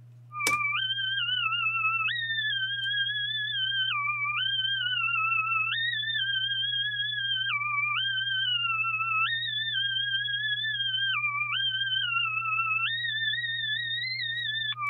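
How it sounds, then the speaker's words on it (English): A synth lead plays a stepped melodic line with pitch modulation over a steady low sustained bass tone, clean and continuous for the whole stretch, with no voices, part of a trap beat. "Then I found a synth lead sound that I liked, and I added this with some pitch modulation."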